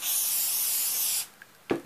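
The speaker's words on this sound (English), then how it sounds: "we're gonna spray" A spray can gives one steady, close hiss lasting just over a second while making a paperclip holder, followed by a couple of small taps and a brief rustle.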